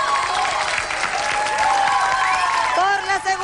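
Studio audience applauding on a TV game show for the first couple, steady clapping under a male announcer's voice and music throughout.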